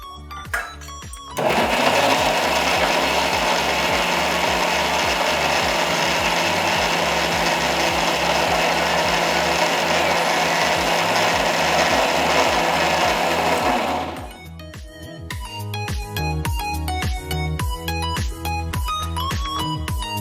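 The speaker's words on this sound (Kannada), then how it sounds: "ಸೊ ಇದನ್ನು ನಾನು ಗ್ರೈಂಡ್ ಮಾಡ್ತಾ ಇದ್ದೀನಿ." A kitchen mixer grinder whirs loudly and steadily, blending mango pieces with jaggery for about twelve seconds before cutting off, leaving clattering kitchen handling and rattling afterward.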